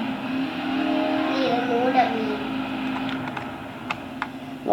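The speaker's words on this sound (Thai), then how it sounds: "เสียงเครื่องเหมือนฟอร์ดมาสแตง" A video game car engine drones steadily at mid pitch, with a rising rev partway through and a few faint clicks. A voice talks quietly underneath.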